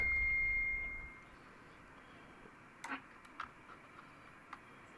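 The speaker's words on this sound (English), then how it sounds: "So let's try single ping." A short, thin electronic ping tone fades at the start, followed by quiet faint ticks and clicks against a low background hum.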